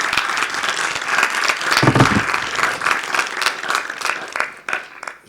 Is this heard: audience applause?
yes